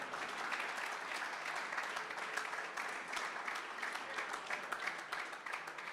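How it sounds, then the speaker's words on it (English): Audience applause at a rugby academy sport graduation ceremony, a steady, continuous round of clapping from a seated crowd, moderately loud and even from start to finish. "Let's just give them a round of applause once again."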